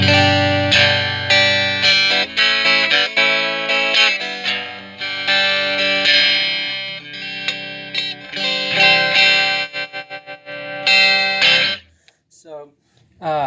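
An electric guitar played through a Fender Tone Master Deluxe Reverb amp with a Weber Signature Alnico speaker, at low volume, rings out a run of warm, fat chords and single notes, then trails off into a few scattered plucked tones.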